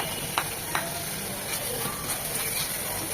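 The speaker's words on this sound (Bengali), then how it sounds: "এটাকেও 1 মিনিট ভেজে নেব, যেন আদা ঝাঁঝালো গন্ধটা চলে যায়।" Ginger and garlic paste frying with onion paste in hot oil, a steady soft sizzle with a couple of faint utensil taps, no voices.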